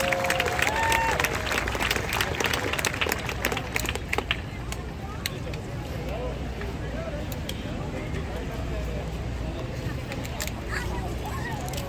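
An outdoor crowd at the State Fair of Texas opening day ceremony applauds members of the Dallas Symphony Orchestra. The clapping is loud and dense at first, then thins into scattered claps beneath steady crowd babble and nearby voices.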